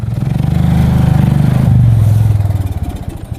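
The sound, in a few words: motorcycle engine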